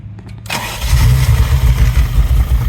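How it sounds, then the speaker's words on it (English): A Ferrari Mondial Spyder's 3.2 liter quattrovalvole V8 cranks briefly, catches and fires up, then settles into a loud, steady, deep rumbling idle close by, with no one talking. "Let's let you hear the engine real quick."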